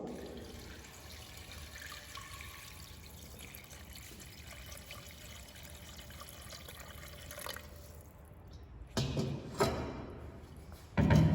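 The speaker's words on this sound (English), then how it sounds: "Okay, so I'll add some water into it," Cold water runs and trickles steadily into a pot of bones for stock, a faint continuous flow that turns into louder splashing bursts near the end.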